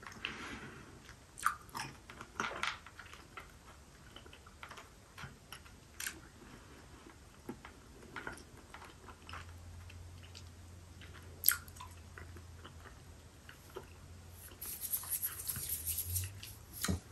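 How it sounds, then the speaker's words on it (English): Close, quiet mouth sounds of chewing sticky Mamba tropical fruit chew candies, with soft squishy bites and small crunchy clicks coming in irregular bursts throughout. "that's the fun part of eating chewy candies."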